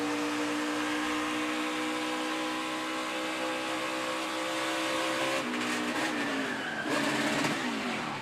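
A NASCAR Cup race car spins out after a rear-end failure, its loud engine roar held steady and then broken by a sudden burst of tire squeal and scraping as it slides, with other cars droning nearby.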